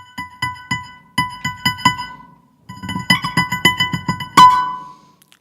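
An aFrame electronic frame drum plays hits with layered mid and high ringing tones in quick rhythmic bursts, a pause, then a denser run ending in a sharp bright strike.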